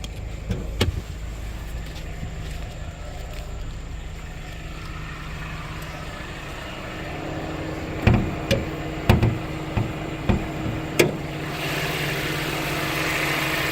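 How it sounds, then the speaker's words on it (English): A 2019 Mercedes-Benz A220's 2-liter inline four-cylinder engine idles steadily with a low, even hum, interrupted by several sharp clicks or knocks toward the end. No talking. "Now let's check the engine on the car."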